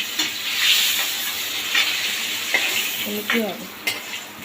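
A hilsa fish head fries in hot oil, giving a loud, close, steady sizzle and hiss, with a few scraping stirs and light utensil clinks toward the end.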